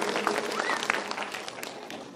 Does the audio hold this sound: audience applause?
yes